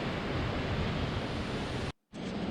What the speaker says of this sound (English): Surprised there was enough water moving this time of year to give us this much of a waterfall.